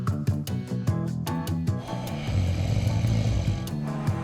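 A person snores in a recording made by a snoring-recorder phone app, with loud, close, rasping breaths and a rattling, fluttering buzz, then a longer, rougher drawn-out snore.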